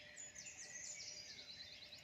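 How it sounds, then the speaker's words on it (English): Birds sing in a dawn chorus outdoors in the wild, with thin, high, overlapping chirps and trills carrying steadily at a modest distance in an otherwise still morning. "We've really, really enjoyed this dawn chorus."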